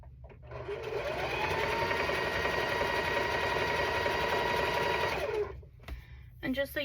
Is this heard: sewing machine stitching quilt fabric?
yes